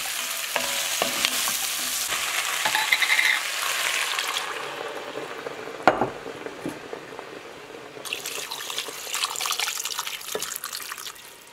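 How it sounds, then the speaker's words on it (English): Breakfast frying on a wood stove, a steady close sizzle with stirring and scraping, a sharp clatter near the middle and a brighter hiss toward the end, with no talking. "While breakfast is cooking on the wood stove"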